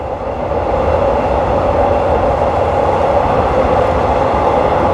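Onboard an elevated train heading from Don Mueang to Krung Thep Aphiwat in Bangkok, a steady, loud carriage drone with low rumble and light track noise, no voices.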